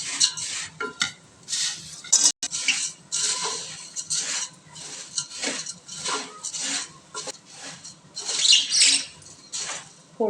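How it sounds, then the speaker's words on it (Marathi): Puffed rice chivda being stirred and tossed in a pan after tempering, giving a steady run of close, crisp rustling and scraping with faint sizzle, no talking. "आता चिवडा परतते मी."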